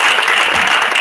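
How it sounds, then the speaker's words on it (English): Loud, dense applause for the winners of a Code 4 Odisha hackathon, a crowd clapping continuously and close throughout the brief moment. "one big round of applause for all the winners"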